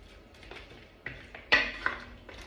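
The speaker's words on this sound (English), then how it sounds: "Stir that in." A utensil clinks and scrapes against a pot as sliced onion is stirred into a simmering Kenyan goat wet fry, a few distinct knocks, the sharpest near the middle, with no talking.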